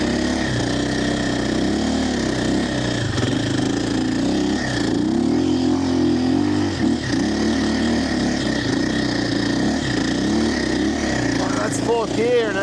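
A 2025 KTM Champion Edition motorcycle engine drones and revs under load while riding through soft sand, a steady mid-pitched engine note with rising and falling pitch sweeps, close and loud, with wind noise and the rider's voice over it.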